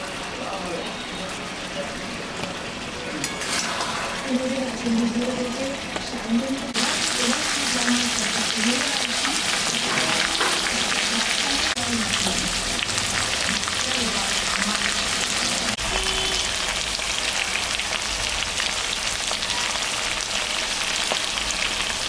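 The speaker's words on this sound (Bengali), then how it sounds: "কি সুন্দর কষানো হয়েছে মাংসটা, কি সুন্দর গ্রেভি বেরিয়েছে।" Goat meat sizzles steadily in a pan as it is sautéed down into a thick gravy, a dense, continuous frying hiss with a voice talking over it during the first few seconds.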